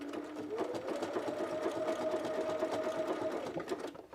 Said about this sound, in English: Yeah, this machine is geared towards quilters.